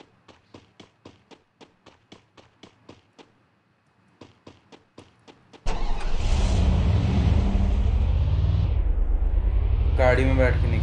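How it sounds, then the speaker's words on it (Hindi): A car engine starts and runs loudly in the Garena Free Fire video game, right after a stretch of quiet rhythmic footsteps, with a brief higher effect near the end. "गाड़ी में बैठ के निकल जाता हूँ यार"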